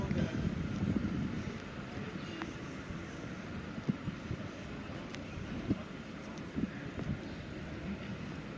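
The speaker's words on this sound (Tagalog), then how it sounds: "Sobra lamig kasi mahangin." Steady wind rumbles and buffets against the microphone, a constant low roar with occasional gusty thumps.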